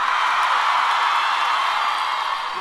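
A concert crowd applauds for a fan brought up on stage, a dense steady wash of clapping and cheering that stays loud and even throughout.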